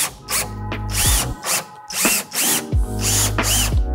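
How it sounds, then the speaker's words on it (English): A power drill drives 10 by 1 pancake-head fasteners into a standing-seam roof deck while a peak flashing is installed. It gives loud, close whirring bursts that wind up and stop with ratcheting clicks, repeated several times in quick succession. "we're driving our 10 by 1 pancake head fasteners"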